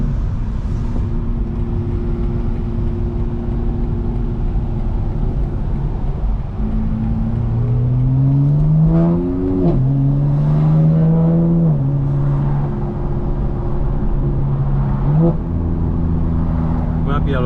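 A modified 2025 BMW M4 Competition xDrive drones steadily while driving, with low engine tones rising and falling through gear changes and a swelling rev in the middle, loud and continuous throughout.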